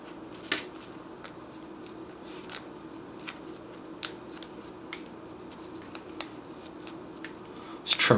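Whole tobacco leaf wrapper being trimmed, with faint, sparse snips and soft crinkles scattered across a quiet background, closing with a brief louder rustle.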